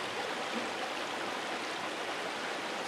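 Swollen stream water rushing after heavy rains, a broad continuous roar of flow heard close and steady, with no voices or breaks.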